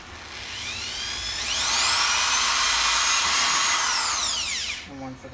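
A power drill whines up to a high, steady pitch as it bores holes through a plastic container, holding for a few seconds before spinning down.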